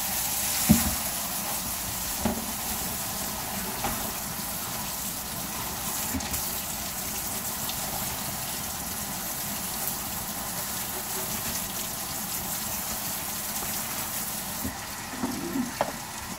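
Cauliflower is rinsed under running tap water, a steady, broad hiss of flowing water that continues throughout at moderate level, with a few soft knocks and handling sounds.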